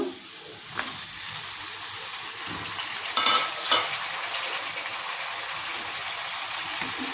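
Chopped tomato pieces fry in hot oil with a steady, loud sizzle and crackle, broken by a couple of brief stirring scrapes near the middle; no voices.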